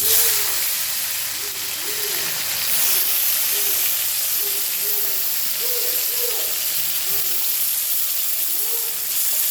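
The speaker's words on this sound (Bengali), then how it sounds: "এবার আমি টমেটোগুলো ছেড়ে দেবো।" Tomatoes hit hot oil in a pan and hiss with a loud, continuous steamy sizzle that slowly eases, with faint short tonal sounds underneath.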